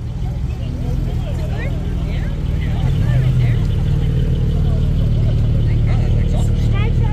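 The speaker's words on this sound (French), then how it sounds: "on va laisser passer la Boxster Spider et derrière une GT3" Porsche Boxster Spider followed by a 991-generation GT3 rolling past at a Cars & Coffee meet in Luxembourg, a steady loud engine drone with low rumble that swells slightly as the cars go by, with no one talking.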